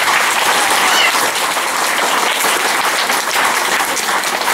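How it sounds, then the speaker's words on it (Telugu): Loud, dense audience applause fills the room at a motivational programme, a steady roar of many hands clapping together without letting up. "ఒకసారి గట్టిగా క్లాప్స్ కొడదాం"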